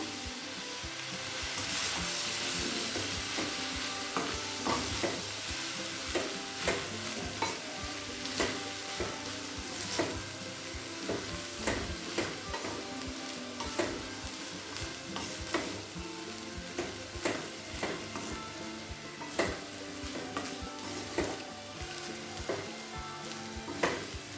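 Street-style vegetable fried rice with pepper and salt being mixed in a hot pan: a steady sizzle with a long run of rhythmic spatula scrapes and clacks, close and uninterrupted by speech.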